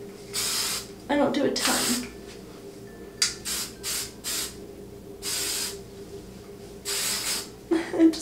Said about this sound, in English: I'll spray it a little. I'm just using a super simple Tresemme